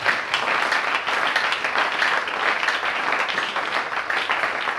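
A church congregation applauds the Lord, steady dense clapping that fills the room continuously and loudly throughout, with no break.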